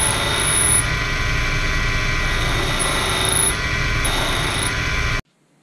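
Proxxon PD 250/e lathe chamfering a trailing edge with a CCMT tool, a continuous close whirring machining noise with a faint high whine, ending abruptly in silence.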